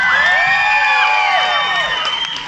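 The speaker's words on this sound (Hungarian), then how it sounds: "Tapsoljuk meg" A live concert audience in Nagykáta roars with sustained cheering, whoops and high shouting, steady and loud throughout without clear breaks, with scattered clapping buried in the crowd noise.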